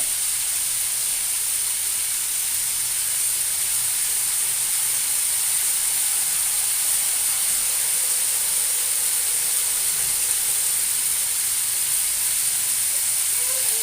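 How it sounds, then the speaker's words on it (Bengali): Steady broad hiss and sizzle from broth poured into a pan of frying potatoes and flat beans, a continuous even wash of steam noise throughout with no talk. "এবার এটাকে মোটামুটি করে ভেজে নিয়ে আমি এখানে পরিমাণ মতো ঝোল দিয়ে দেব।"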